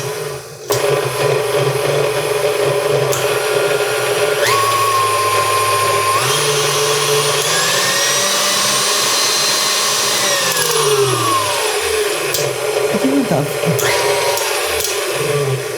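KitchenAid stand mixer in Majestic Yellow, with a bowl from a 5-series model fitted, running steadily with a whirring motor hum and a slight rattle, pitch shifting as the speed changes.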